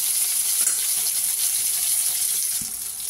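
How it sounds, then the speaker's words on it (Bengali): Pieces of brinjal coated in salt and turmeric fry in hot oil, producing a continuous bright hissing sizzle with faint crackles, close by and steady for about three seconds without talk. "বেগুনটাকে লাল লাল করে একটু ভেজে নিই।"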